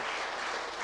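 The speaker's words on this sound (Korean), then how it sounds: "자 박수를 한번 쳐보겠습니다" Audience clapping at a Korean church Bible seminar, a short dense patter of many hands at an even, moderate level with no pause or voice over it.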